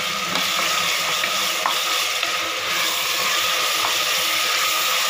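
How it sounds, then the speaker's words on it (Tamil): Chopped tomatoes fry and sizzle steadily in a pan for a pressure-cooker veg biryani, with a spoon scraping and stirring through them in irregular strokes, close and continuous with no talking. "தக்காளி எல்லாம் நல்லா ஃப்ரை ஆகிற மாதிரி பார்த்துக்கோங்க."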